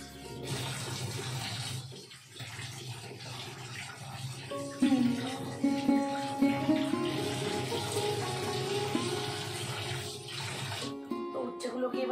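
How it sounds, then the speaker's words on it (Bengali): Bitter gourds are washed under running tap water, with a steady splashing stream that swells louder as the vegetables are rubbed and turned beneath it, heard close by. "উচ্ছেগুলোকে আমি একটু ভালো করে ধুয়ে নিই।"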